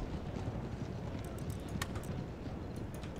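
Cavalry horses moving in Empire: Total War, a soft, continuous clip-clop of many hooves blending into a low rumble, with faint chirps above.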